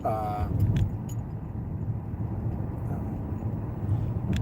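A car drives through a residential neighborhood, its engine and road rumble a steady low drone heard from inside the vehicle, with a brief tonal sound at the start.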